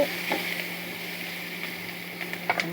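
Onions fry in oil until brown, a soft, steady sizzle with a few faint clicks and stirring taps, heard alone at close range.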